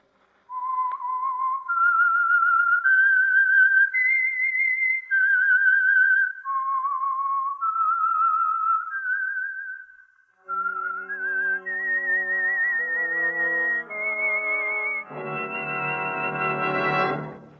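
A lone whistler carries the theme of the old radio mystery program The Whistler, a clear, close melody of held notes that steps up and down before a brighter instrumental chord sequence swells in at the end.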